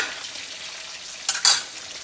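Close, hissing sizzle of food frying in hot oil, with two brief louder crackling bursts near the end.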